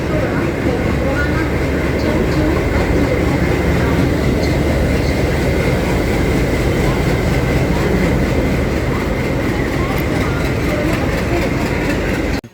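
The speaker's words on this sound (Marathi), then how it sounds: "ट्रेन आली आता." A train rumbles steadily into the station, a loud, continuous low roar of wheels and carriages heard close up for the whole stretch.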